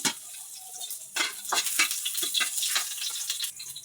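Garlic and onion sautéing in a hot pan give a loud, steady sizzle, broken by several scraping stirs and clatters from a utensil against the pan.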